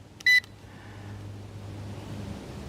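A drone's remote controller powering on gives a short electronic beep pattern near the start, a single burst of tones followed by a low steady hum.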